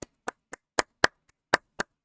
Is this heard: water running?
no